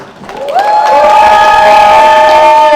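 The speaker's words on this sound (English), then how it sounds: "Can we please give a round of applause to Nia?" A loud crowd at an art fair swells into sustained cheering and whooping with applause underneath, high shouts ringing out over the roar.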